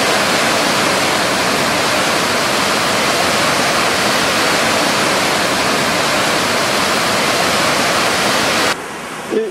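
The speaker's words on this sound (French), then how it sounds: "une rivière," Loud, steady roar of the Gyr river's rushing water, broadband and unbroken for most of the clip before cutting off abruptly near the end.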